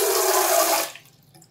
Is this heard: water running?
yes